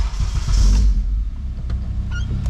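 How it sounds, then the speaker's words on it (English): A car engine idles after an ECU reset, throttle relearn and a new base map, a steady low rumble close by with a brief louder swell early on before settling back to an even idle. "It's idling like it should."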